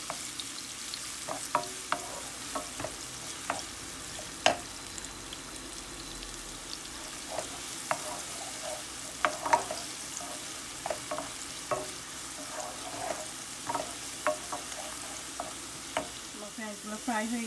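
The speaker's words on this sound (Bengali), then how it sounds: "আমি এখন এগুলো সবগুলোকে একটু ফ্রাই করবো।" Onion and two tablespoons of chopped garlic fry in a pan with a continuous sizzle, punctuated by sharp clicks of a spatula stirring and scraping at irregular intervals.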